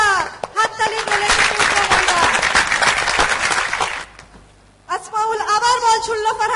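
Applause from a crowd at a Bengali drama's cricket scene breaks out loudly for several seconds amid talk, dipping briefly before speech resumes.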